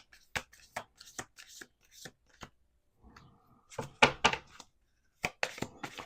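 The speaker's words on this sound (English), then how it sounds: "Let's do 2 more shuffles." Close-up riffling and soft slaps of tarot cards being shuffled by hand in several quick bursts, with brief pauses and a short murmur between.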